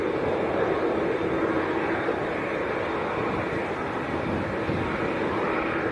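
Airplane heard as a steady, loud engine roar with a dense rumble that holds evenly from start to finish.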